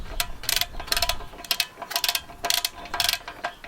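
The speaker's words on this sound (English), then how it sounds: "Now I have the extension to be able to put my wrench on here" A ratchet wrench on an extension loosening a 12mm exhaust bolt on a fairly new Honda Grom MSX 125 gives quick bursts of close, rhythmic clicking, about seven strokes in steady succession.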